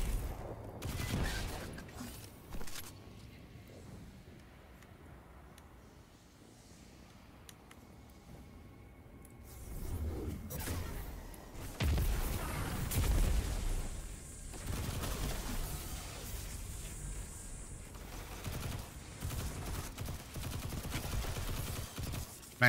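Weapon fire in the video game Destiny 2 Shadowkeep, clusters of shots in uneven bursts with booming impacts, quieter in the middle and denser later on.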